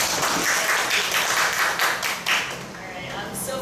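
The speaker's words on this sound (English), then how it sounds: "So let's welcome her with a big round of applause." A small class claps for a guest speaker in a classroom, a steady patter of hands that swells and fades over a few seconds, with some voices mixed in.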